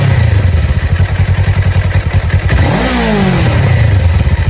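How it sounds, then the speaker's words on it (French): A Kawasaki KLE 500 SE motorcycle engine and exhaust rumble up close with a steady pulsing beat, then revs up in a rising sweep before settling back to a throbbing idle. "niveau pot d'échappement, on n'a pas le moteur avec la plus grande sonorité"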